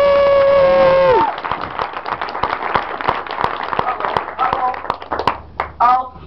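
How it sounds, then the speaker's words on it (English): A held musical tone cuts off, then a science-talk competition audience breaks into lively clapping and cheering that carries on steadily. "So please generate some applause"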